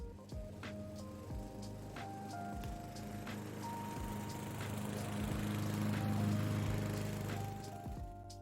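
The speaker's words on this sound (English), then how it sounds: "a lawnmower right outside your window when you're trying to record" A lawnmower engine runs just outside a window, a steady low mechanical drone that swells gradually louder, with no talking.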